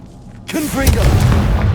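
Confringo fire spell cast in the video game Hogwarts Legacy: a sudden heavy boom with a roaring, rumbling blast that swells and holds, loud and close, with a voice calling out over it.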